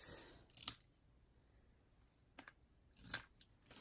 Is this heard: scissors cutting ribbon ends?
yes